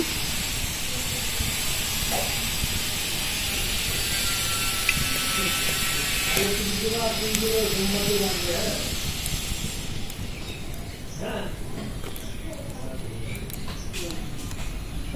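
Mango malpua batter fries in hot oil, a steady bright hiss and sizzle running throughout, close and fairly loud, with a voice speaking briefly over it.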